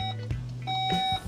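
Short electronic beeps from a Skoda Kodiaq's hands-free tailgate closing, two clear tones a fraction of a second apart over a faint low hum.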